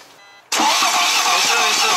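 A BMW 520d diesel with a broken timing chain cranks loudly after half a second of near silence, a steady whirring starter drone with no catch or firing, continuing to the end.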